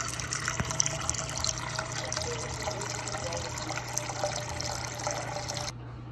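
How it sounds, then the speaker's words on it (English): Tap water runs steadily into a cooking pan for ramen in a home kitchen, a continuous close trickling and filling sound with no talking, stopping abruptly near the end. "First, we're gonna go put some water in the pan."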